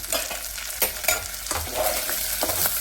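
Onions and curry leaves sizzle and fry in a pan, with a steady close crackle broken by a few sharper stirring scrapes and no talking.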